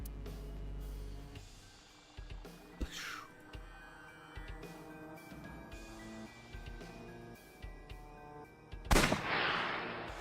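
Gunfire in the video game AI: The Somnium Files, a few sharp separate bangs over a low game soundscape, with one loud crack near the end.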